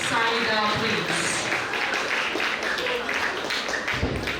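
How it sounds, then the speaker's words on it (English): Audience applause for a student speaker at a school event at St Anthony H.S. School, Laitumkhrah, a steady broadband patter lasting throughout, with voices mixed in over it. "A big round of applause to Saida, please."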